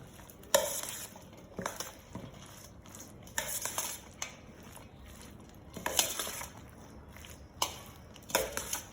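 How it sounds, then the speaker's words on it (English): A spoon stirs tahini dressing seasoned with salt and freshly ground pepper in a bowl, giving soft scraping and a series of sharp clinks against the sides at irregular intervals, close and fairly quiet. "Salt and freshly ground pepper, and then you just simply mix it all together."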